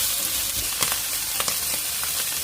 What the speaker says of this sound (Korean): 팬에 기름을 두르지 않고 길게 썬 스팸을 넣고 중불에서 노릇하게 구워줍니다